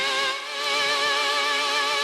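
A sustained note pitched two octaves up with added wobble, imitating an eerie 1960s horror instrument: a bright, quavering tone with steady vibrato, moderately loud and alone for about two seconds.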